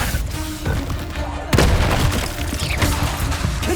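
Confringo fire spell blasts in the video game Hogwarts Legacy, with a loud booming burst about halfway through over a steady rumbling game mix and busy effects.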